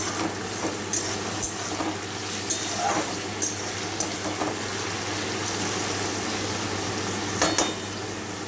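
Boiled noodles fry in a pan with a low, continuous sizzle, punctuated by occasional utensil clicks and stirring scrapes, heard close and without voices.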